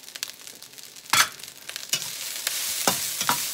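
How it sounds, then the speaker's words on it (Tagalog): Garlic stir-fried until slightly scorched in a pan, a steady soft sizzle broken by several sharp scraping strokes of the spatula at irregular intervals. "Tuloy-tuloy lang ang pagsangag. Medyo nasisunog po ang bawang."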